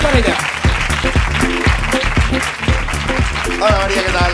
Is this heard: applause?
yes